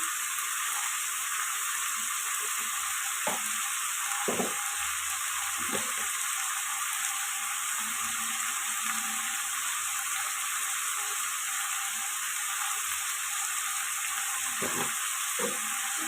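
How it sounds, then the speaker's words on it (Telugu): Drumstick and cauliflower curry with cabbage, salt, turmeric and oil being stirred in a pan: a steady soft sizzle and hiss throughout, broken by occasional low knocks and scrapes of the spoon, with no talking. "దీన్ని బాగా కలిసేలాగా కలుపుతుంది"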